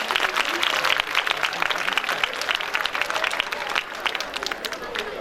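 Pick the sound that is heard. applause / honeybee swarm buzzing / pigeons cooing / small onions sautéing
applause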